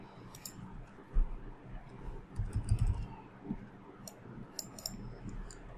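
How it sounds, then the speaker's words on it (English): Someone types a web address on a computer keyboard: a run of soft, irregular key clicks, briefly denser in the middle, close by with no talking. "So let me just type the URL"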